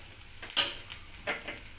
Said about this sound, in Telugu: ఇలా ఉల్లిపాయలు దూరగా వేయించుకోవాలి